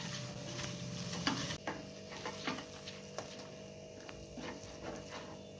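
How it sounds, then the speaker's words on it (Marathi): Spices with homemade masala and salt are stirred in a hot cooking pan, giving steady sizzling with a few light scraping strokes throughout, close and moderately quiet, with no talking. "व्यवस्थित हलवून घ्यायचंय।"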